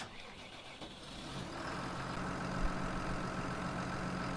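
A tractor engine in Farming Simulator 19 cranks over and catches, then settles into a steady, rising rumble with a faint whine on top, close and continuous with no talk.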